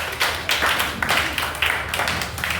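A church congregation claps together in praise of the Lord, a dense, steady rhythm of many hands with loud beats about twice a second, filling the room.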